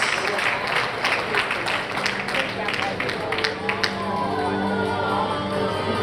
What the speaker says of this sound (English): big round of applause for Alex and his mom